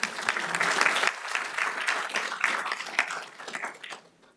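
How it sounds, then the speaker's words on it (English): An audience at an IPR and standardization programme event applauds its sponsors, Nokia and PRH; a burst of many hands clapping rises loudly, stays full for a few seconds, then thins out and fades away. "So let's give them applause"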